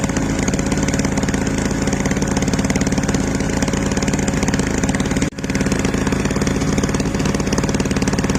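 A Eurom GE 720 two-stroke petrol generator runs steadily close by, a loud continuous buzzing drone with a brief dip near the middle.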